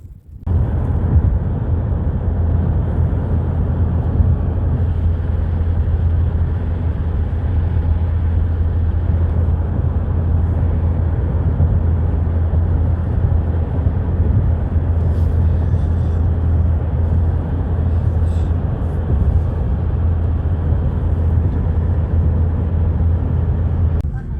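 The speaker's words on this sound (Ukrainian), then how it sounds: "это я уже сижу в самолете. Вон летаем." Airplane cabin noise during a flight, a loud, constant low roar and hum that holds steady throughout without pauses, with no talking.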